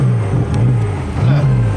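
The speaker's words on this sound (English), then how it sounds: "if we rev it now" A 900 BHP BMW M6 engine idles loudly close by, its low hum rising briefly in two short revs with no one speaking.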